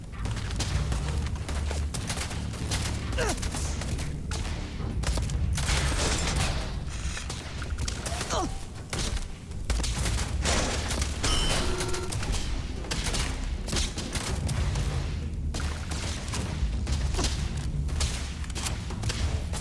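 Rapid bursts of gunfire and thudding impacts in the video game Starfield, dense and continuous throughout, loud and near, with no talk over it.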